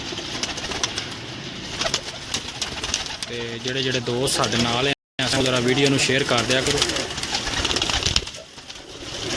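Pigeons in a large flock kept by a breeder, their soft repeated cooing running steadily beneath a voice speaking throughout, with a brief dropout midway.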